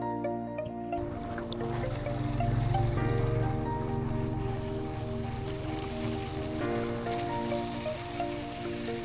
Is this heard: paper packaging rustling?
no